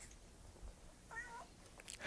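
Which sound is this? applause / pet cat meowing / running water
pet cat meowing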